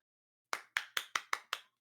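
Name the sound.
hands clapping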